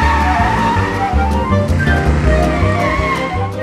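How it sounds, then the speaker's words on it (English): A toy car speeds off with skidding, squealing tyres in a children's cartoon, its whine and screech running steadily and loudly over a busy layered background for the whole stretch. "He can drive off in my car."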